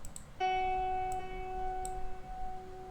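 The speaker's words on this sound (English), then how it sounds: "This guitar is in the center without any EQ." A clean electric guitar track, panned center with no EQ, rings out a sustained chord that decays slowly after a sharp attack, heard alone without other instruments.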